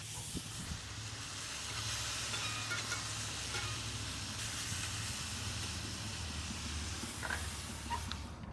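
Thin-sliced cheesesteak meat on a Big Green Egg griddle gives off a steady, close hissing sizzle with a low rumble beneath, continuous and fairly even throughout with no voices.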